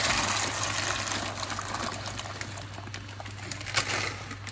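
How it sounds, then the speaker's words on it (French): A Cookeo electric pressure cooker at the end of a high-pressure cook of pasta in sauce, giving off a steady hissing, bubbling vent noise with a low hum beneath, continuous and fairly close. "on entend le cookéo en fin de cuisson"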